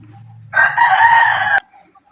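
A single close, loud call from a chicken being slaughtered lasts about one second, standing out clearly above quiet low background clucks.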